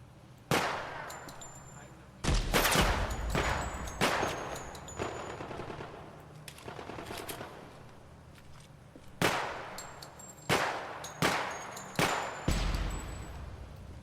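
Gunfire from the Project Silverfish video game: a string of sharp, close single shots and short bursts fired at irregular intervals, with quieter stretches between them.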